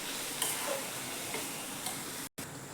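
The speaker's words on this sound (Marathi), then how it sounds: "आता हे व्यवस्थित परतून घ्यायचं" Ginger garlic paste fries with whole masoor lentils in a pan, giving a steady, moderately loud sizzle with a few faint ticks from stirring.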